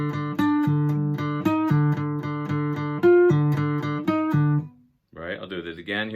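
A slow, steady run of plucked guitar notes played one after another, clear and close, stopping before a brief burst of talking.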